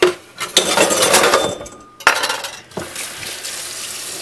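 Hot water splashes and runs over a plastic cover being rinsed, with clattering knocks and bursts of spray, close up, and a sudden loud clunk partway through.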